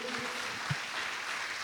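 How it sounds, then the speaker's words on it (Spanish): A church congregation applauds the Lord during a Friday evening service, a soft, steady patter of clapping heard from a distance with faint voices in the room. "Dele un aplauso al Señor esta noche."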